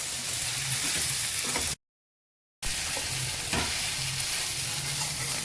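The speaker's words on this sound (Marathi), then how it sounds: "भेंडी टाकूया आणि सगळी मसाल्यामध्ये भेंडी फिरवून घेऊ" Okra sizzles and fries in oil with spice masala while being stirred, a steady loud crackle broken by a short gap of silence, with faint scraping of the stirring under the sizzle and no talking.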